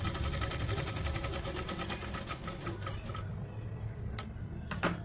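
Sewing machine stitching a blouse back neck, a close, steady rapid mechanical rattle that runs for about three seconds and then stops, leaving a few light clicks and handling knocks.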